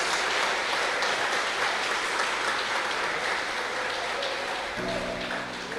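Congregation applauding during a church service, a dense steady wash of clapping that holds at full level throughout and only eases slightly near the end, when a low sustained tone enters.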